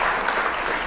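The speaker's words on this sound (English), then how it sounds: "Let's give another round of applause to Playground Games with Forza Horizon." A loud crowd applauds Playground Games for Forza Horizon, with dense, steady clapping filling the whole moment and no break in the sound.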